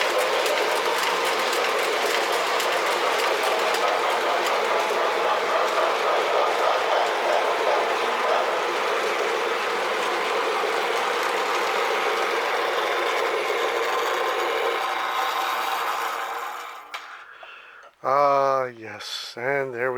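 Model train running on its outdoor track, a steady close rolling rumble with faint rhythmic clicking that fades out near the end, followed by a voice.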